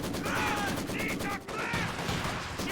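Rapid gunfire bursts from a machine gunner in the Company of Heroes 2 war game, dense and rattling, with battle noise filling the background.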